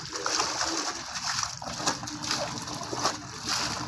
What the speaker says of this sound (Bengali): এখন এই যে ধামার মধ্যে জল ধরা হয়েছে আর একটু ভালো করে চুবিয়ে চুবিয়ে এটাকে ধুয়ে নিতে হবে